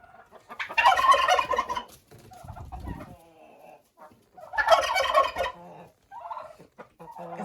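Turkeys gobble loudly in two bursts inside a warm greenhouse in winter, rapid rattling calls close by, with quieter clucks and shuffling between them.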